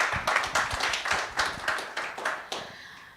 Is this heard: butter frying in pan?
no